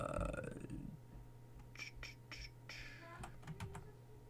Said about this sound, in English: we're going to type in version, and we're going to say version 3